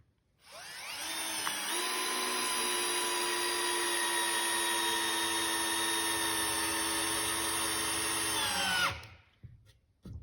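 A Festool CXS drill/driver countersinks a trim head screw, a steady high motor whine held for about eight seconds before winding down, followed by a few small handling knocks.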